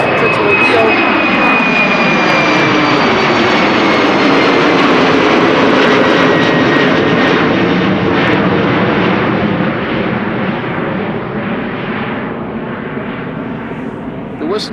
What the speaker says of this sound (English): This is KLM flight 1295 to Billund